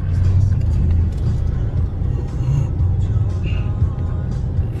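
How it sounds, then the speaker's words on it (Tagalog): A car crawls through Friday traffic in Makati, with low engine rumble and road noise running steadily throughout and people talking inside the vehicle. "Friday pa naman. Traffic talaga."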